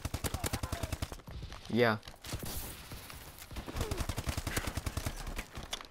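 Rapid gunfire from an S12 shotgun in Call of Duty: Advanced Warfare team deathmatch, a fast string of loud close shots at the start and again near the end, with someone speaking briefly in between.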